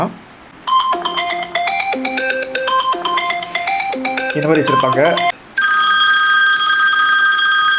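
An iPhone ringtone plays loudly on the handset: a bright chiming marimba-style melody, then a different steady, sustained ringing tone, while someone speaks over the start of it.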